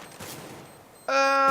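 Counter-Strike gunfire: a soft, low-level stretch gives way near the end to a loud, sharp burst of shots with ringing metallic tones, close and dominant, with no talking over it.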